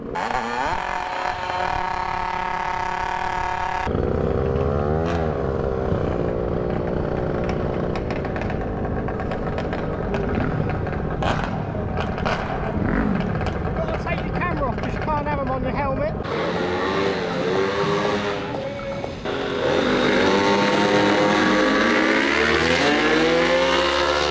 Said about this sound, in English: I've never taken a bike up Santa Pod quarter mile, and I'm doing it for the first time on this little Aliexpress special